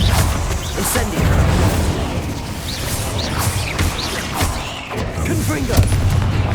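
The Incendio fire spell is cast in Hogwarts Legacy, producing a loud, dense roar of fiery booms and whooshing crashes that carries on continuously over busy game sound, with a voice mixed in.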